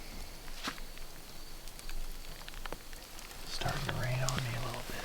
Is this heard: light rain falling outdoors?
yes